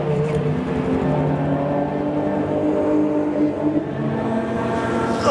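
Race cars at a VLN endurance race at the Nürburgring in Germany, a dense steady engine roar of cars going by at a distance that rises and falls slightly with no talk over it.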